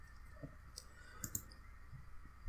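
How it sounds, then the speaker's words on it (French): Computer mouse buttons clicked a few times while working in Blender, producing faint, sparse, light clicks over a quiet room background with no talking. "si je clique sur mon bouton gauche, le bouton gauche de ma souris"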